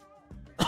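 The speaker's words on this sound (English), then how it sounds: "my cough is definitely kicking" A single short, sharp cough or throat-clear bursts out near the end after quiet room tone, close and fairly loud.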